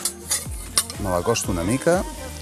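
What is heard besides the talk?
stirring oil into a pot while cooking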